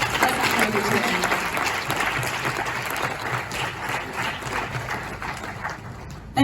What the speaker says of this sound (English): Please, let's acknowledge the chair.